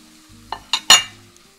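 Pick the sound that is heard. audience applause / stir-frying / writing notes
stir-frying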